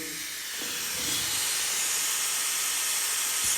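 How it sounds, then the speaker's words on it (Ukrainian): An electric nail drill with a milling bit opens the nail pocket during a manicure, giving a steady, close, high-pitched hiss that swells after a moment and runs on without talking. "Відкриваю я фрезою Оніклін"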